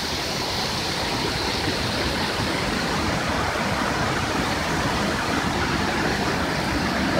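Rushing water roars continuously, a broad steady wash of a river flowing close by at its mouth where it empties into another river, with no pauses or voices.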